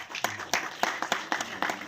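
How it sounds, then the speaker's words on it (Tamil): Scattered handclaps from an audience at a Tamil film audio launch event, a few sharp, uneven claps spaced through a short burst. "கைத்தட்டு"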